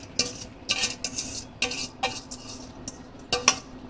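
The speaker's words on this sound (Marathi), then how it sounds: "घेतलेली मुगाची डाळ स्वच्छ धुवून घेऊया" Moong dal rinsed in water in a pot or bowl, heard as a series of clattering, splashy scrapes and knocks at an uneven rhythm, close and fairly loud.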